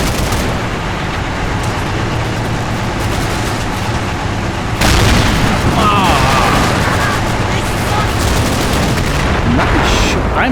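A tank gun fires in the Combat Mission: Battle for Normandy game, a sudden loud blast that jumps out of a dense, continuous background of battle noise and rumble, followed by sustained roar and scattered crackles.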